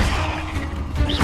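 The Confringo blasting spell goes off in Hogwarts Legacy as a brief crashing whoosh with dull thumps, punchy and close, over in about a second.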